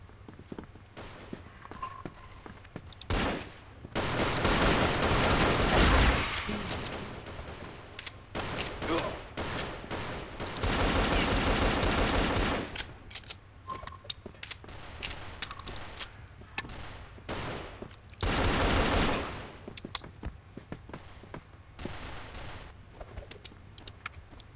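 Gunfire from dual Colt Volcano weapons in the shooter game CrossFire, with bursts of rapid shots in several long clusters alternating with quieter stretches of single clicks and steps.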